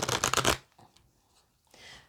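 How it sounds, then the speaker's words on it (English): A tarot deck gets a quick, close riffle shuffle, a loud burst of rapid card flutters that stops sharply, followed by faint handling noises and a soft rustle. "So I'm just going to shuffle the deck."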